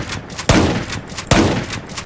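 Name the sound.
gunfire from guns in a Minecraft war mod, video game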